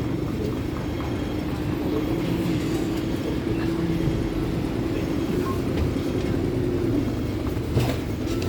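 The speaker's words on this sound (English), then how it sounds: "So we're coming into Wan Chai now by tram." A Hong Kong tram pulls into a stop in Wan Chai, its steady low rumble and rattle filling the ride from inside the car, with faint wheel clicks and no talking.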